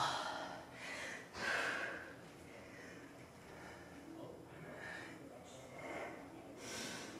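Breathing during a pilates core workout: a few audible breaths and exhales, moderately close, spaced out over a soft noisy background with faint voice-like sounds.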